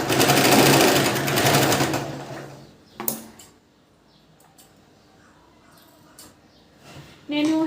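Sewing machine stitching the shoulder seam of a princess-cut blouse, a fast mechanical whir running for about two seconds, then a clunk and quiet handling noises before a brief restart.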